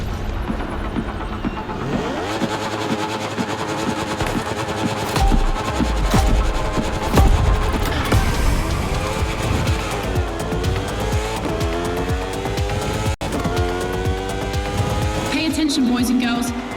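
Motorbike racing engines scream through a Red Bull time attack event in The Crew Motorfest, sustained high revving with rising and falling pitch through gear shifts, loud and close, while someone talks over it.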